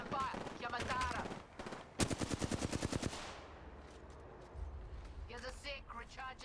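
Automatic gunfire in an Apex Legends match rattles off in a fast burst of about a dozen sharp shots, loud and up front, with players talking before and after.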